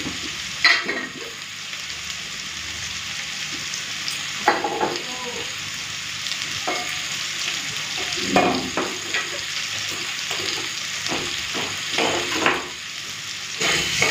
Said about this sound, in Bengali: এই যে দেখুন আলু আর পেঁয়াজ কলিটা ভাজা হয়ে গেছে